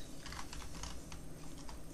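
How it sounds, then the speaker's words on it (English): Rapid typing on a computer keyboard, a steady run of light, close clicks and taps with no voices, in a Call of Duty: Black Ops Cold War setting. "just typing in the word weapon there"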